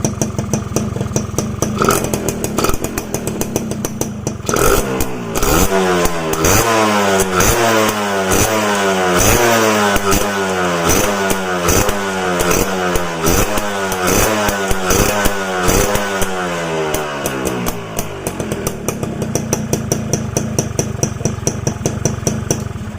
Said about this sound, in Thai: รถมันเพิ่งติดเป็นครั้งแรกของวัน